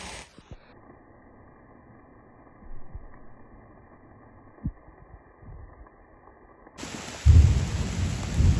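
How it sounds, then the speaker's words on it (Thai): Heavy rain with big drops and thunder strikes outdoors on a tea-picking day: faint rumbles and scattered thuds, then a sudden loud downpour roars close in near the end. "โอ้ยทุกคนฝนตก เม็ดบักใหญ่"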